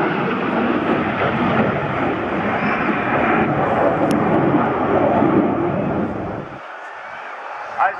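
A military jet makes a fast pass with afterburner at the Bournemouth Airshow 2019, producing a loud, dense roar that holds for about six seconds and then drops away sharply to a distant rumble.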